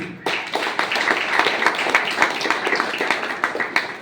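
Seminar audience in Ahmedabad breaking into loud, dense clapping that starts abruptly and keeps up steadily throughout, close and sustained with no talk over it.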